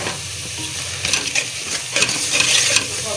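Ingredients frying in a little oil in a pan, a steady close sizzle broken by stirring scrapes and clinks, with no one talking.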